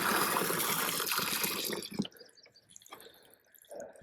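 Water pours into a farm animals' drinking container on a dry day, a loud splashing fill that stops abruptly, followed by a few faint drips and small sloshes.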